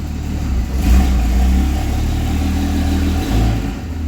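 Cummins diesel truck engine running steadily at idle, a low rumbling drone that swells slightly as the transmission is put into drive, close and continuous.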